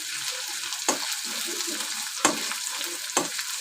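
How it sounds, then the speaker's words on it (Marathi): Garlic fries in hot oil in a kadhai as the base for a yogurt kadhi, giving a close, steady sizzling hiss broken by three brief louder clatters of stirring. "लसूण कडत आहे चांगला कडून घ्यायचा आहे चांगला लालसर कलर येपर्यंत"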